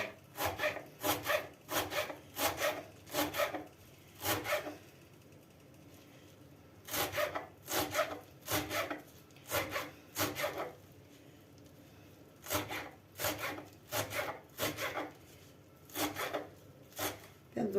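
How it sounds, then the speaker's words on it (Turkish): Rapid rhythmic knife strokes finely chopping parsley on a board, coming in quick bursts of several cuts separated by brief pauses, close and crisp. "maydanozumu da ince ince doğrayacağım."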